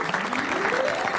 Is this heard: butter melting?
no